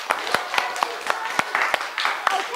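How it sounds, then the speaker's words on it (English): A small group claps for two interviewers, with sharp, distinct hand claps in a loose, fairly regular rhythm over a soft bed of scattered clapping and murmur, close and moderately loud. "a round of applause for the two boys there"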